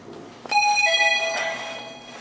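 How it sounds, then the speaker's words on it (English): A Mitsubishi chime ringtone on a mobile phone sounds near the ground floor of a vintage Otis traction elevator in Rochester, NY: a bright, sustained run of bell-like tones begins abruptly and rings on steadily for about two seconds. "And my phone just went off."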